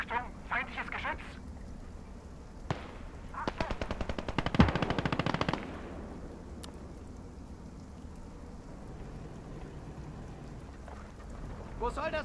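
Enemy machine-gun fire in the WWII strategy game Operation Lüttich, heard as rapid bursts of gunfire mid-clip after scattered earlier shots, over a steady battlefield rumble.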